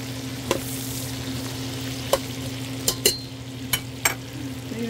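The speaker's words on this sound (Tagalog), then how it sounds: "binigisa ko na yung pansit" Pancit noodles sautéing in a pan with meat and vegetables, giving a steady low sizzle and hiss with a few sharp clicks of a utensil striking the pan.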